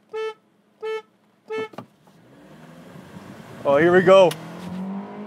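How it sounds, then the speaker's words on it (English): Hyundai Kona turbo compact crossover and Mazda CX-3 drag racing on an airstrip; engines rise in a steady, building roar after a few short spoken words, with a loud swell of revving near the end. "The world's slowest drag race."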